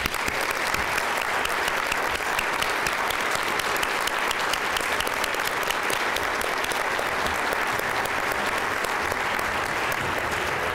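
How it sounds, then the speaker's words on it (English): Steady, dense applause from a sizable audience at a Tampa Black History celebration, clapping continuously at an even level throughout with no pauses. "So get up out your seats, give a round of applause for Mr. Tom Baptist."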